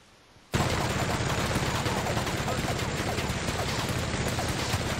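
Sustained, dense gunfire from The Outer Worlds video game, aimed at a mech: a loud, continuous rattle of rapid shots that starts abruptly after a brief quiet moment and runs without a break.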